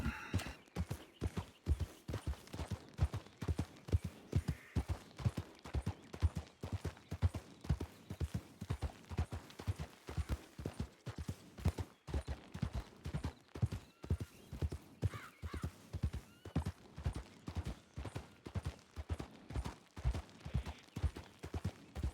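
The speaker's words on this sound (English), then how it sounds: "riding my horse from one end to the other end of the crossing" Steady rhythmic clip-clop of horse hooves on a hard surface in the video game WildRP, loud and close, continuing throughout with an occasional faint whinny.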